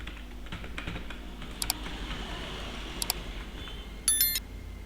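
Keys clack on a computer keyboard in scattered taps, with a few sharper clicks and a brief louder burst of keystrokes near the end, while coding a Java calculator in NetBeans.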